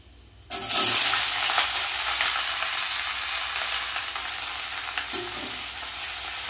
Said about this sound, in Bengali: প্রথমে চিচিঙ্গাটা ভেজে নেব